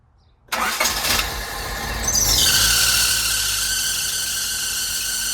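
A Honda Civic engine cranks with a brief starter whir, catches, and settles into a steady idle, with a high belt squeal rising over the running engine and holding to the end.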